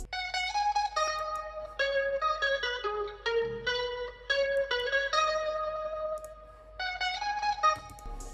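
Guitar accent passed through a rotating Guitar Rig preset and a cassette effect, a wavering, warbly melodic line with smeared sustained notes and a faint low hum beneath, continuous and fairly close.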